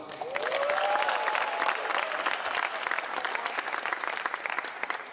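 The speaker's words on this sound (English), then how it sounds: "So I would love for you guys to make some noise, a round of applause for Miss Alice Watson." An audience at an Indiana Black Expo announcement event applauds loudly and steadily for about five seconds, a dense wash of many hands clapping.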